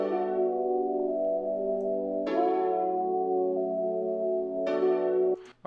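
A sampled piano one-shot sounds a simple chord pattern: three sustained chords struck about two seconds apart, each ringing out clearly and loudly before the next.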